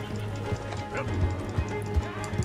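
Rapid horse hooves drum along at a gallop in Red Dead Redemption 2, thudding in an uneven rhythm beneath muffled game noise and a voice talking.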